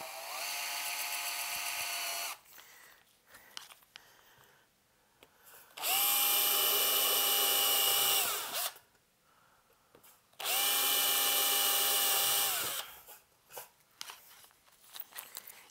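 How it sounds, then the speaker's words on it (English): A power drill bores holes through a metal amplifier chassis for RCA jacks, in three loud whining bursts of about two to three seconds each, separated by quiet handling noises, close up with no talk. "We start off with the with a smaller size bit and work our way up to the larger size and get these two holes drilled for the RCA jacks on the top."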